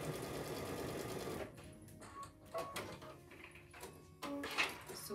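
Sewing machine stitching a line on a quilt panel, a steady close whir for over a second, then quieter handling and short bursts of stitching, fairly faint overall.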